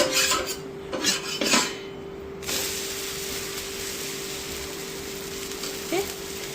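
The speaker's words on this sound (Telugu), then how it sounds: "ఇంకా దోశ తిప్పుకుందాము." A dosa is flipped on a hot pan, with a couple of quick metallic spatula scrapes and clinks near the start, then a soft, steady sizzle carries on alone.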